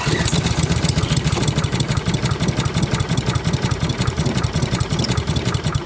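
A vintage Honda Harmony lawn mower engine labouring to idle after a tune-up, its low RPM running as a loud, close, rapid chugging putter with a steady beat.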